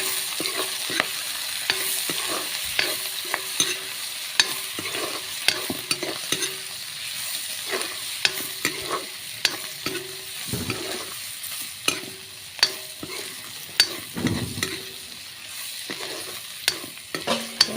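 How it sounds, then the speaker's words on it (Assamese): Dried fish frying in a pan with repeated scraping and clinking of a spatula stirring, irregular knocks over a constant sizzle, no voices. "মাছখিনি মই ভালদৰে ভাজি ল'ম।"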